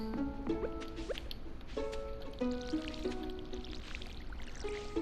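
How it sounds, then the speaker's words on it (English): Crops are watered with a watering can in a farming video game, heard as a soft pouring splash. Light tonal game music chimes in repeated phrases over the steady sound, with no voice. "we'll water our crops"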